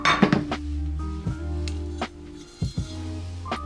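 Several hard knocks and clinks of a frying pan bottom crushing white peppercorns against a surface, spaced irregularly, with short ringing tones between strikes; close and fairly loud, no talking.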